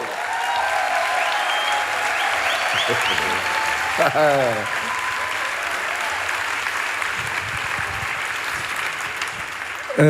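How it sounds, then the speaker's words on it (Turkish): Audience applauds steadily at the opening ceremony of the 41st Istanbul Film Festival as the festival director walks onto the stage, with a brief voice cutting through partway and the clapping continuing at an even level throughout. "şimdi alkışlarla sahneye İstanbul Film Festivali direktörü Sayın Kerem Ayan geliyor"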